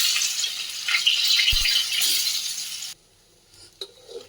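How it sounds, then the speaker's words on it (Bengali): Potatoes fry in a pan with a loud, steady hiss and sizzle and a brief metallic clink partway through, until the sizzle cuts off abruptly, leaving faint scattered clinks and rustles. "এই যে আলু ভাজা প্রায় হয়ে গিয়েছে"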